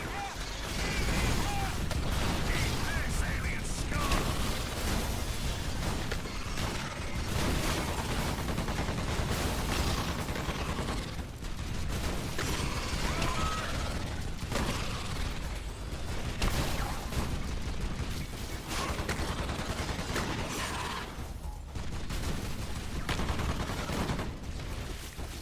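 Rocket launches and gunfire hit spiders in EDF: Insect Armageddon as dense, continuous combat noise full of blasts, rapid shots and mechanical clatter, with a voice talking over the din.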